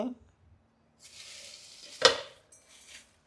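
A burst of hissing sizzle as spices drop into hot oil for tempering, with a sharp crackle partway through, then quieter frying fading out.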